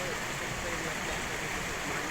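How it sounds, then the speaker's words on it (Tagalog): A mountain stream flows in a steady, even rush of water, continuous and fairly soft, with no breaks or changes in level. "So puro may sapa dito."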